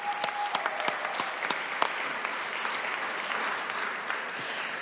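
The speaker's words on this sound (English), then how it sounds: "So give yourselves a round of applause." A conference audience at a legislative and policy gathering applauds steadily, a dense wash of many hands with a few sharper individual claps standing out, holding an even level for about five seconds.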